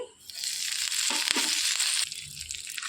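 Steady crackling sizzle of curry leaves dropped into hot oil for tempering, loud and close, with a brief burst of stirring partway through.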